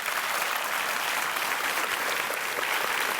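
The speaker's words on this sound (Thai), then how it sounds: "ขอเสียงปรบมือให้กับคุณพ่อด้วยนะฮะ" A studio audience at a Thai television show claps for a father, producing dense, even applause that holds steady from start to finish with no pause.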